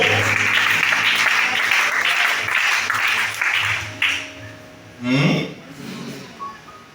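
A congregation claps and cheers during a Sunday church service in Libreville, Gabon, loud applause filling the first few seconds before fading, followed by a voice speaking and a brief shout.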